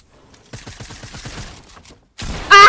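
Gunfire in Fortnite: a quick run of sharp shots in steady succession, followed after a short pause by a loud burst of further firing and noise, with no talk.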